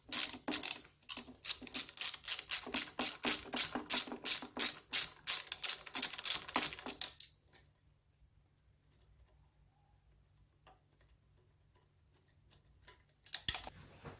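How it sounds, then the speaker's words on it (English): Rapid ratchet wrench clicking while bolts come off a Suzuki F6A twin-cam engine, a steady run of sharp close clicks for about seven seconds, then near silence and a brief knock at the end. "I need a ratchet."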